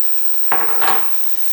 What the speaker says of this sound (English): To that, I'm gonna add my carrots